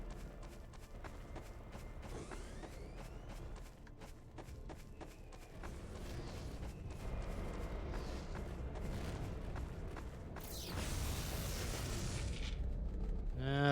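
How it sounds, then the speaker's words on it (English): Explosions go off in the video game E.Y.E.: Divine Cybermancy, muffled booms and rumbling blasts under a busy mix of footsteps and clatter, ending in a bright, loud burst. "No matter how far you are from those explosions, it's a flashbang every time."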